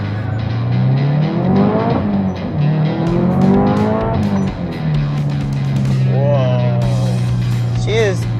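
COBB-tuned Subaru STI engine pulling hard under throttle, its pitch climbing in several rising sweeps with gear changes, loud and close from inside the car, with a person talking over it.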